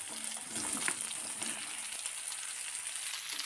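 Cut ridge gourd frying in hot oil with nigella seeds and green chillies, a steady dense sizzle with a few soft stirring knocks near the start, close and continuous with no talk.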